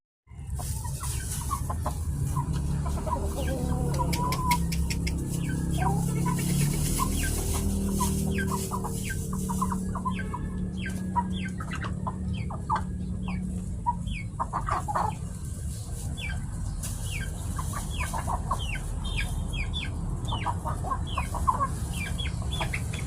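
Several chickens clucking and chattering close by as they are fed leftover rice, busy overlapping calls continuing throughout, with occasional soft pecking noises and no speech.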